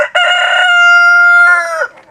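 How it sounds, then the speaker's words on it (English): Rooster on a farm crowing with an unusual trumpeting, elephant-like call instead of a normal cock-a-doodle-doo; one loud, close, drawn-out crow lasting about two seconds, alone with no talk. "He doesn't make the cock-a-doodle-doo noise, so I always know when he crows."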